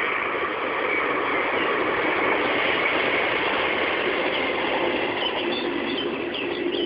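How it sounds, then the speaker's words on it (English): Train going past as a steady, continuous broadband rumble and rush that holds at an even, fairly loud level throughout, with no talk. "Oh, the train going past."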